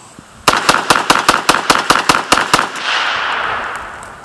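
About ten rapid gunshots crack in a fast, even string on an outdoor shooting range, loud and close, followed by a fading roar and echo, with no talking.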